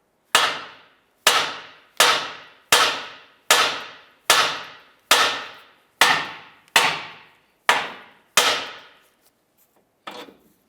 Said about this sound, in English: I'm going to go ahead and give the knuckle a few taps right here so we can go ahead and loosen that